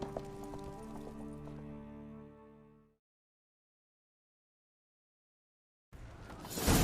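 Horse hooves galloping in The Witcher 3, heard over layered game music for about three seconds before everything drops to silence, then a burst of louder, noisy game sound returns near the end.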